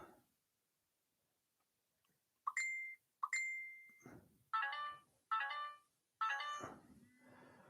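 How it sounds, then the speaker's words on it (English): A smartphone that has just been switched on plays a burst of notification tones for missed messages, with two short chimes followed by several bright jingles in quick succession, fairly quiet in a silent room. "did you just turn this phone on? So it's got to go through all the notifications that she missed"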